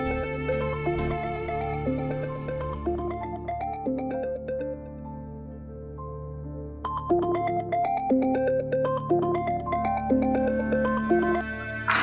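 A melodic ringtone plays on repeat, fairly quiet, pausing briefly midway before the tune starts up again, with no talking.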